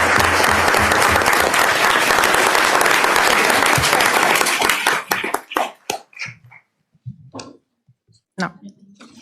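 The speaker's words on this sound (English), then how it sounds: "So let's give them a round of applause." An audience at a board of education meeting gives students a dense round of applause for about five seconds. It thins into a few scattered claps, with some talk.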